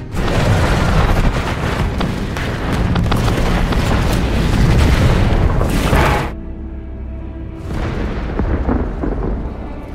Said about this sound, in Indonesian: puluhan bom gravitasi dijatuhkan dari lambung pesawat Jerman, mengoyak bumi dalam sekejap